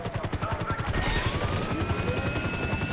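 A helicopter's rapid rotor thumping in the video game GTA V pulses steadily with engine whine, mixed with bursts of distant gunfire in a game soundscape.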